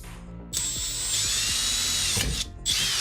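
A power drill with a poor, flexing bit whines loudly, starting after a brief pause, cutting out briefly near the end and then resuming, with low rattling clicks underneath.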